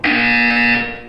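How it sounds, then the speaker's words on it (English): A loud, steady electronic buzzer from the video game Portal 2 sounds alone for about a second as a harsh, harmonic-rich tone, then fades. "When you hear the buzzer, look down at the floor."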